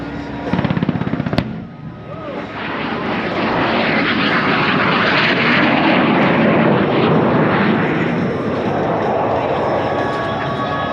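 A Vietnam-era bomber attack aircraft with a 7.62 minigun flies low, its loud, steady engine roar building after a brief burst of sharp, rapid gunfire-like cracks at the start.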